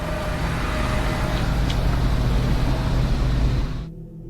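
A bus rolls past in the video game The VHS Paradise, a loud, steady engine and road rumble that holds for several seconds and then cuts off abruptly.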